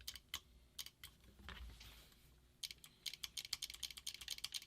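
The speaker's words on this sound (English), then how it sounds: "When you pull the trigger, you can hear both solenoids click." A classic electronic paintball marker is triggered repeatedly and its two solenoids snap with sharp mechanical clicks, quiet and close, in irregular bunches that speed into a rapid run near the end.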